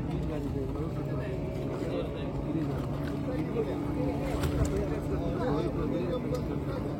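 A boat engine drones steadily at a low, even pitch, with people talking over the running motor.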